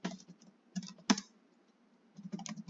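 Light, quick computer keyboard typing while entering Python code, with bursts of key clicks separated by short pauses and a single sharper keystroke, close and fairly quiet with no talk.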